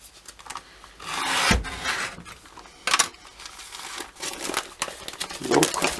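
A never-sharpened knife blade slices through a stack of folded newspaper pages, producing rough rasping scrapes and papery crinkles in several uneven bursts with brief pauses.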